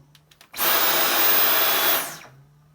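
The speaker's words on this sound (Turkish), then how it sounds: "Süpürgenin sesi bu." A Dyson V10 Total Clean cordless stick vacuum switches on with a few clicks, runs with a loud high-pitched whirring whine for about a second and a half, then spins down.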